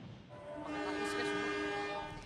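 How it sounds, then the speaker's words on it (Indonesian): A PT KAI crane train sets off from Cirebon to help recover derailed wagons. A horn sounds a long, sustained, steady blast, rising and then holding close by over faint rail rumble. "PT KAI Daops 3 Cirebon memberangkatkan kereta krain."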